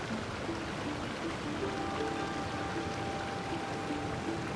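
A waterfall in Genshin Impact splashes and pours in a steady, unbroken rush of water, with faint tonal sounds drifting underneath.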